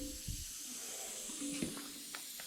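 A leaking hose clamp on an air compressor lets out a steady, faint, high-pitched hiss of escaping air that carries on continuously, with a few small knocks and handling noises underneath.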